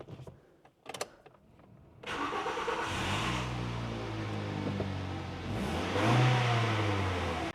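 A recently repaired car's engine catches with a couple of brief clicks, then runs at a steady, loud mid-pitched hum and revs up higher toward the end, close by with no talking.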